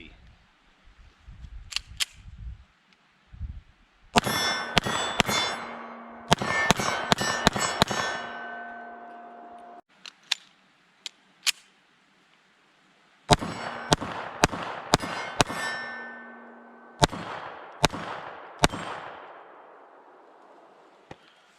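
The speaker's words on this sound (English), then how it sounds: "let's take our first shots with the 380 Shield EZ" A Smith & Wesson 380 Shield EZ pistol fires outdoors in several quick strings of sharp, loud cracks with brief ringing tails, separated by short pauses and a few isolated single shots.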